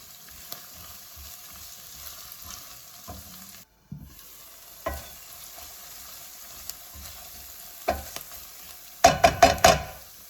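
Braised runner beans sizzle in tomato and olive oil as tomato puree is stirred in, a steady close fry with occasional spoon knocks and a quick run of loud scrapes against the pot at the end.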